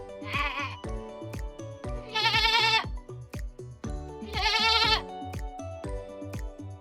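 Farm goats let out three loud, wavering bleats in close succession, each lasting under a second, layered over a bouncy musical backing with a steady beat.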